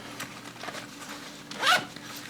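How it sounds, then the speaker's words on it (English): A zipper closes on a camera gear bag in one quick, close rasping pull near the end, preceded by faint handling rustles. "It goes in there, zips up."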